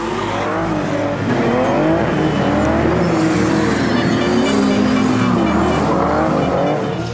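A drift car at a competition roars loudly and steadily, its engine revving up and down while tires squeal in long rising and falling whines throughout.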